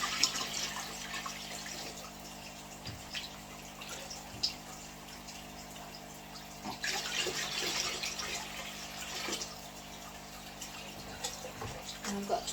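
Water runs steadily into a 40-litre fish tank for about twelve seconds, a continuous trickling and splashing pour with occasional drips, fairly close and moderately loud, with no talk over it.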